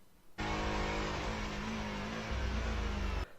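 A Formula 1 car in the F1 2023 video game brakes hard into a corner, its engine note a loud, sustained buzzing whine that cuts in abruptly and holds steady before stopping.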